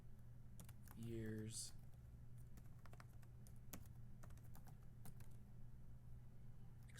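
Quiet clicking of keys tapped on a computer keyboard, a steady run of light strokes beneath a brief spoken word and a low background hum.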